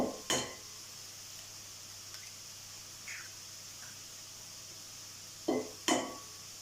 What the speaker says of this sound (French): je vais casser les 3 œufs